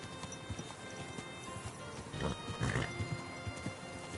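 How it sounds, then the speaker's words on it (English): Horse hooves clip-clopping in Kingdom Come: Deliverance 2, a steady rhythmic gait of shod hooves at moderate distance, with a brief louder flurry midway amid quiet ambient game sound. "Easy, good horse."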